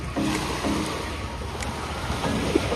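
Sea waves wash beside an island, a steady surf and wind noise with soft swells and faint knocks as from a boat, holding at a moderate level throughout.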